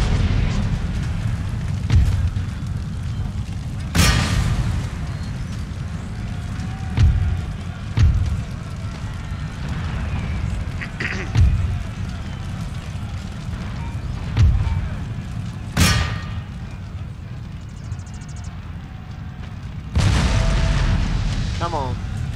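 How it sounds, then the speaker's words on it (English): Mortar fire explodes in the battle game Empire: Total War, with repeated deep booms at irregular intervals, some sharp and loud, over a low rumbling battlefield background. "Probably going to need to cease and desist with the mortars now. It's a little dangerously close."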